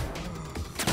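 Sniper fire in Saints Row (2022) cracks out in a quick cluster of sharp shots, loud and near, with a final heavier report.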